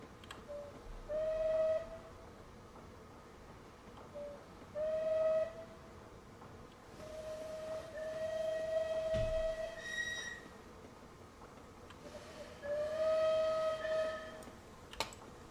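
Steam locomotive whistle from the Merchant Navy class Clan Line in Train Simulator 2020 on the Paignton to Kingswear line, sounding in several separate blasts, some short and some held longer, loud over a steady rumble of the train.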